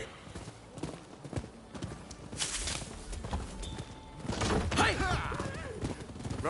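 Horse hooves clip-clop in a steady trot while riding in a video game, with a brief thud partway through and game sounds and busy background noise layered over the hoofbeats.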